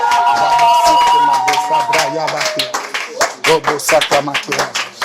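Rhythmic hand clapping at a church service pops through a voice singing or speaking over music, the claps growing more distinct toward the end.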